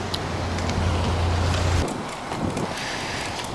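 Breezy wind buffets the microphone while cycling along a country road near Kings Sutton, a steady broadband rush with a low rumble that eases after about two seconds.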